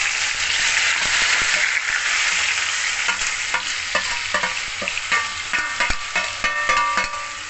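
Steady oil sizzle as chopped banana stem fries, with intermittent stirring clatter growing more frequent toward the end; close and fairly loud, no talking.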